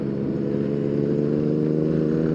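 A big Yamaha MT-09 motorcycle idles and revs steadily nearby on a group breakfast ride, its low engine drone constant for the whole stretch with no talk.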